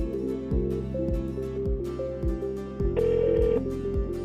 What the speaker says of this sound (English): Let's grab my phone and dial. Put it on speaker